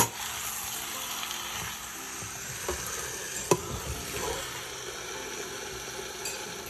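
Pork loin being stirred in a large wok, a continuous moderate sizzle with scraping spatula strokes and one sharp metallic clack midway, no voices.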